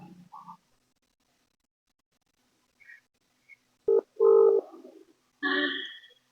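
A phone call being placed from a used car shop: short dial tones and electronic beeps come first, then a clear, moderately loud ring tone pattern sounding alone with no talk.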